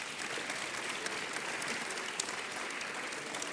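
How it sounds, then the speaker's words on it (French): Audience at La Grande Tribune 2025 applauds the speakers at the end of a defence round-table discussion; dense, steady clapping fills the whole stretch at a moderate distance, with no voices above it. "Vous pouvez encore les applaudir"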